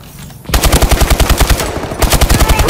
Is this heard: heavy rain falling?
no